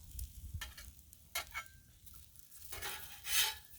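Eggs cooking on a griddle, a faint close sizzle with scraping spatula strokes and a few brief clatters, no voices.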